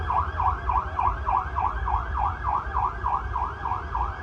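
A mock-drill air raid siren wails in a steady, repeating rise-and-fall cycle, loud and continuous over a low rumble of traffic in Hyderabad, with no talking.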